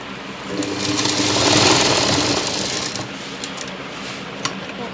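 A sewing machine stitches a folded lehenga waistband with a steady, close mechanical whirr that swells slightly mid-run and then settles, with no talking.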